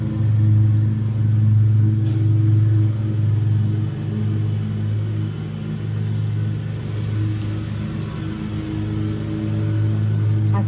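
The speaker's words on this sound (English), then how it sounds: "I thought they had already mowed over here on the side of the property when I started this, but evidently they had not." A nearby lawn mower drones steadily throughout with a low, continuous engine rumble and slight surges in load, fairly loud and without speech over it.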